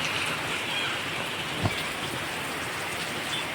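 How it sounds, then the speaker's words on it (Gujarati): Steady rain pours down in a village in Kutch, a dense even hiss of drops hitting surfaces, with one brief low thump midway and no voices. "સારી વરસાદ છે જો બિદડા ગામમાં."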